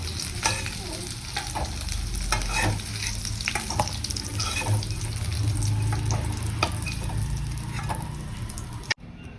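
Aloo dum potato curry cooks in a wok, a loud steady sizzle and frying hiss with repeated stirring scrapes throughout, ending in a sharp knock and sudden cutoff.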